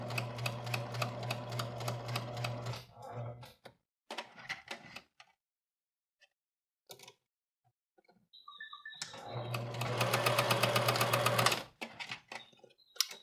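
A sewing machine stitches small flaps for an 18-inch doll's safari jacket in two quick bursts of rapid, even mechanical clatter, separated by a pause with faint clicks and handling noises.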